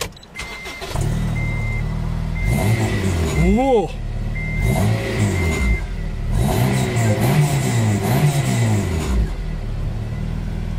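A Honda Integra Type R DC5 with VTEC engine fires up and revs, sharp rising and falling blips over a steady idle, close and loud, with a short exclamation and talk around it.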